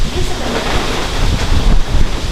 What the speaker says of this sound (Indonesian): Wih, angin.